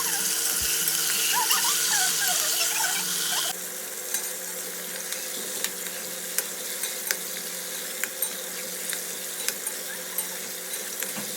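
Meat fries in hot oil inside a kazan for kazan kebab, a steady close crackling sizzle running throughout with scattered sharp pops and stirring clicks, alone without talk.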